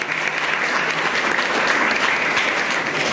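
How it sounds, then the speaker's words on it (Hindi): Audience at a school awareness program applauding steadily, a dense, sustained wash of many hands clapping close by with no pause. "मेरी जो बात अच्छी लगे ताली बीच में जरूर मार दे करो"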